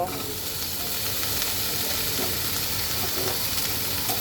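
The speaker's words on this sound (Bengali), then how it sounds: "পেঁয়াজটা আমার খুব সুন্দর করে ভেজে নিয়েছে আমি এখন সবজিগুলো দিয়ে দেব" Mixed vegetables hitting a pan of fried onions let out a dense, loud, unbroken sizzle and hiss, heard close up with faint stirring underneath.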